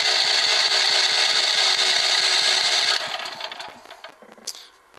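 Champion 9000W dual fuel generator starting: a loud, dense mechanical roar for about three seconds, then it winds down into fading rattles and a metallic clink.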